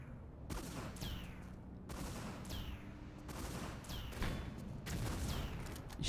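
Four rocket launcher shots in Tomb Raider 3 each boom out sharply at a steady spacing, each followed by a descending whoosh, over a constant rumbling background.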